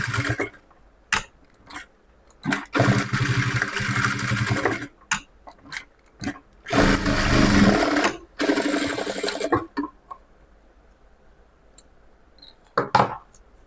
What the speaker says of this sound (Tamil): இந்த மாதிரி தைச்சாச்சு.